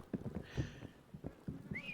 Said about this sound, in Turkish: Ayak seslerini duyuyorum.